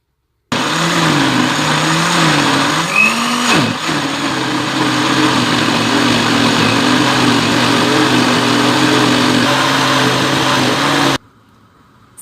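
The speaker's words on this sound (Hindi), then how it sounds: "मैं इसको 5 मिनट तक ठंडा करूँगी और फिर इसको ब्लेंड करूँगी।" A blender purees cooked mustard greens for sarson ka saag, its motor a loud, steady whir for about ten seconds. The pitch wavers early on, then the motor cuts off abruptly.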